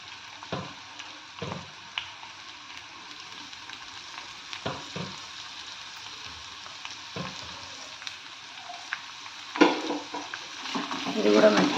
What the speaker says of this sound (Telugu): ఉల్లిపాయలు వేసుకుంటున్నాను. ఉల్లిపాయలు పెద్దదే తీసుకున్నానండి.